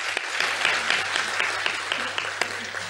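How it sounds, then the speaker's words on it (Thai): An audience claps after a lecture on the development of the Eastern Economic Corridor and its supporting infrastructure, a steady, moderately loud round of applause with a few sharper individual claps standing out. "ขอเสียงปรบมือค่ะ"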